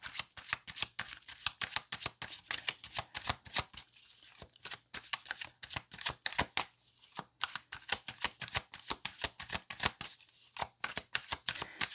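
A Book of Shadows tarot deck being shuffled: steady, crisp riffling and slapping of cards, close and continuous, with brief rhythmic pauses and no voices.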